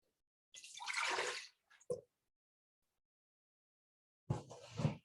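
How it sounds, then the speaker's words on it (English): Filtered water poured into an electric pressure cooker, a steady splashing pour lasting about a second, a brief trickle after, then another short pour near the end. "I'm going to add, and you will see the recipe, 4 cups of filtered water"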